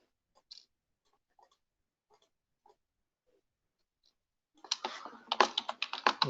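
Fast typing on a computer keyboard, a dense burst of close clattering keystrokes that starts after several seconds of near silence broken only by a few faint isolated clicks.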